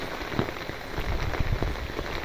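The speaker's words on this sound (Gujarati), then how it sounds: "છત્રીમાંથી પાણી આવવા મીડું છે ને એવો વરસાદ ભૂકા કાઢે છે" Heavy rain drums steadily and densely on an umbrella close overhead, a continuous loud patter with no voices.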